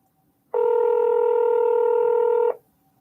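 A telephone's touch-tone dialing produces one steady electronic beep lasting about two seconds, clear and close with no talk around it.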